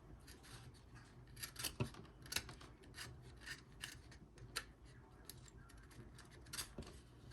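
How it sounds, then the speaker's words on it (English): Snippers cutting away a portion of plastic while building a model hearse: a series of short, crisp snips and scraping rasps at close range over a low background hum, no talking. "I'll probably just clip into that with the snippers, because we don't need this portion here."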